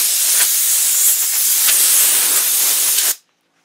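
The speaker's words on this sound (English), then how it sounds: "use my air compressor and just blow off any debris" An air compressor nozzle blows a loud, steady hiss of air over a clear plastic dome for about three seconds, then cuts off abruptly into silence.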